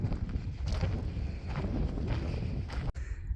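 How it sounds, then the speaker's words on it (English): Gusting wind buffets the microphone along New Mexico Highway 52 on a desert hiking trail, a steady broadband roar that swells and eases in waves before a brief dip near the end. "And it's still gusting wind."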